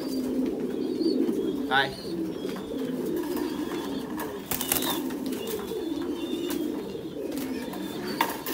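Domestic pigeons kept for breeding coo in low, rolling murmurs at close range, with a brief flutter of wings partway through; someone speaks once.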